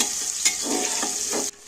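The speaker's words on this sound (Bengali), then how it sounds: "এবার পেঁয়াজগুলো তেলের মধ্যে নাড়াচাড়া করতে থাকবে" Sliced onions sizzle in hot oil while being stirred, lightly fried for an egg curry. A steady close hiss carries a few scraping stir strokes before ending abruptly.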